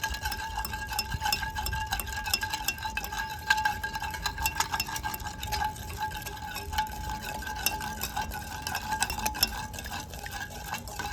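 A homemade hair-darkening powder mixture is stirred in a pan, giving continuous scraping and light tapping of a utensil against metal at close range, with faint background hum.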